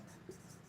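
Chalk or marker writes on a classroom board in a brief, faint scratchy stroke lasting under a second, with no speech.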